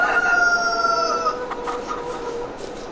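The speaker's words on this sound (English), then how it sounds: "Got one here at the chicken coop as well, down here. These chickens are funny to watch." Chickens in Farming Simulator 22 cluck and crow at a chicken coop, a steady layered stream of fowl calls with a higher crowing line, fairly close and continuous with no talk over it.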